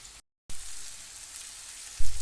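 Masala-coated chicken pieces roast in a pan over a high gas flame, producing a continuous close sizzle after a brief silent gap, with a louder burst of crackling near the end.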